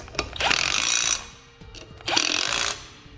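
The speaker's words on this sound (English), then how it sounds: "We'll then tighten those down with a 15mm socket." A power tool with a 15mm socket tightens flange nuts on a Firestone Ride-Rite air helper spring bracket, in two loud bursts of rattling, ratcheting whir of about a second each, separated by a brief pause with a clink.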